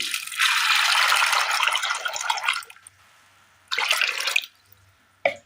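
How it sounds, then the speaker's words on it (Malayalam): Water poured into a clay pot holding soaked green gram: one long close splashing pour, then a second shorter pour and a final brief splash. "വെള്ളം ഒഴിക്കാം"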